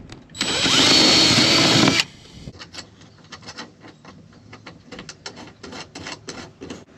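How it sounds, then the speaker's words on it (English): A loud power drill whines for about two seconds, boring a hole in wood, and is followed by a string of clattering taps and knocks as the piece is handled. "I'm just kind of mocking this up right now to get all the holes drilled"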